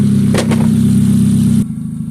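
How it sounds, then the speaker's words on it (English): A 2000 Nissan Sentra engine idling close up, a loud steady low rumble with a pronounced hum that runs continuously, briefly rising around the start, then dropping to a quieter idle with the hiss cut off near the end. "just letting it sit here, idling away, I can hear it idle searching a tiny bit."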